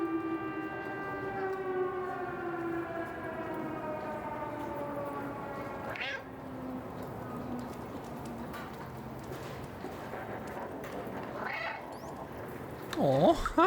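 Sirens in a video game wail in long, slowly falling tones that overlap throughout, loud and sustained, and a sharper burst of noise comes near the end.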